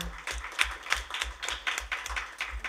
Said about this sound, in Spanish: Se perdió el aplauso.